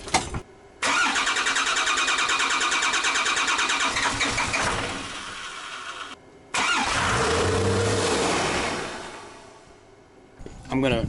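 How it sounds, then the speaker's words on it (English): 12-valve Cummins diesel swapped into a Ford F250 cranks twice with a fast rhythmic starter whir, the second attempt catching into a deep rumbling idle that fades away, with people talking around it. "don't push the gas pedal or anything, but just crank it over when I ask"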